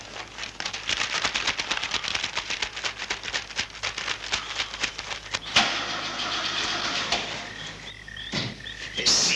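An old car's engine cranks and struggles to start, a loud run of rapid, uneven sputtering bursts that cuts off abruptly partway through, followed by quieter clatter and a couple of sharp bangs.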